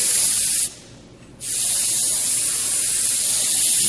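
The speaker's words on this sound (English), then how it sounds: "I'm going to go ahead and spray red." A steady, loud airbrush spraying red paint over a hand-held mask hisses continuously, cutting out briefly for under a second before resuming and holding to the end.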